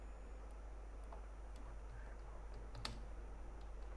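Quiet computer keyboard typing during a networking lesson, with sparse, soft individual key clicks and one sharper tap over a steady low electrical hum.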